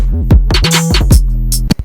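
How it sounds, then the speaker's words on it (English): A heavy, booming sub-bass note glides up and down in pitch several times over a drum pattern, loud and up front. "So what we did was I gave it a little 808 slide,"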